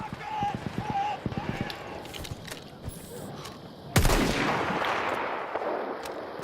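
Guns fire in the video game Battlefield 1 as a magazine is emptied: a rapid burst of close shots opens, then a loud blast and scattered distant fire follow, with someone talking over the action.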